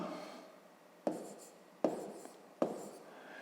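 A pen writing numbers by hand on paper for long division, three distinct soft taps each followed by brief scratchy strokes, close and quiet, with no talking.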